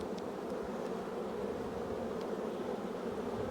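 A dense, steady drone of many honey bees hums around an open hive, continuous and close, with no voices.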